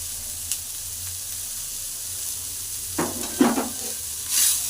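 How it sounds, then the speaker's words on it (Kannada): Onions fry for a chilli chutney, a soft steady sizzle in a pan with a few brief clattering stirs and scrapes toward the end, close and moderately loud, no one talking. "ಅದಕ್ಕೆ ಈರುಳ್ಳಿನೂ ಹುರ್ಕೊತಾ ಇದ್ದೀನಿ ನೋಡಿ"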